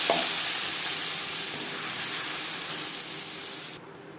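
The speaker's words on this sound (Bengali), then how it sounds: "পাঁচ ফোড়ন তেজপাতা ভেজে নেওয়ার পর দিয়ে দেবো আদা কাঁচা লঙ্কা ও টমেটোর পেস্ট" Ginger, green chilli and tomato paste frying in oil with panch phoron and bay leaf, a loud close hiss that fades gradually before dropping abruptly near the end.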